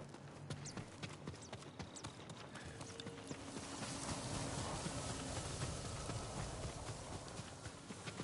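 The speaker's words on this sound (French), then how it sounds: "Un cheval de ferme, pas un cheval de guerre." A farm horse's hooves clip-clop steadily in Ghost of Tsushima, set in feudal Japan, a rhythmic walking gait under soft ambient game sound, rising slightly midway.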